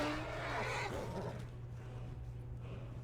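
A horse in the Skyrim video game whinnies loudly in the first second and the call fades into a steady low hum of game background sound.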